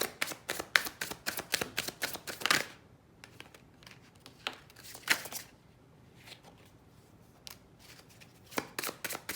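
A deck of tarot cards is shuffled by hand in quick bursts of crisp riffles and slaps, with brief quiet gaps between rounds, close and fairly soft.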